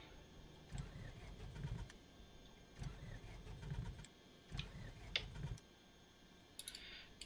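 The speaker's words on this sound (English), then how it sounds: "Prime the engine." A simulated light aircraft engine in Microsoft Flight Simulator 2020 cranks in four separate bursts of labored turning over, with clicks and ticks between attempts, fairly quiet and without talk.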